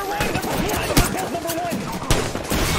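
Rapid bursts of gunfire from guns in a competitive video game scrim match crackle loudly and almost without a break, with overlapping shots and impacts across the whole moment.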